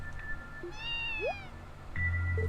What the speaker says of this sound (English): It is I. I am Mr. Cat.